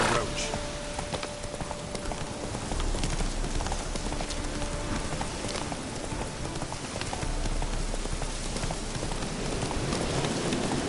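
Horse hooves gallop in the Witcher 3 video game with a continuous, brisk clip-clop that stays close and loud throughout, over a soft rain-like wash of ambience.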